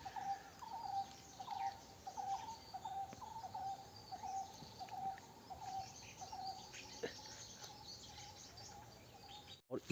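In the jungle, a bird repeats brief hooting calls in a steady series for several seconds, fairly faint against a constant background of insects and forest noise.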